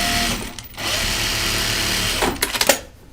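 A sewing machine run by a foot pedal stitches in a steady whir, drops away briefly, then runs on before ending in a few short bursts; close and clear, with no talking.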